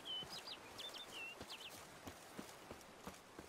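In the video game Witcher 3, a few high, thin bird chirps sound faintly at the start, followed by soft, rhythmic hoof clops of a horse on the move.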